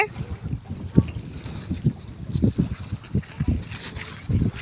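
A boat pulling up on the water at Golpahari in the morning, a low rumble under gusty wind buffeting the microphone, with muffled voices nearby.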